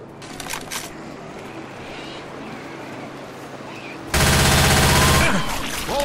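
Sustained machine gun fire in a shooter game cuts in loud and dense after a murky stretch of softer game noise and distant shots, continuing as a steady rapid rattle to the end.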